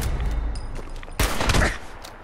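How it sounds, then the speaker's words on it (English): Sniper rifle fire in Fallout 4 during Far Harbor gameplay: a single loud, sharp report cracks out midway over a low ambient rumble, with a brief burst of noise trailing after it. "I'm trying to use the sniper because I have like so much ammo for it."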